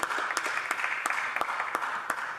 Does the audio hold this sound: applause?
yes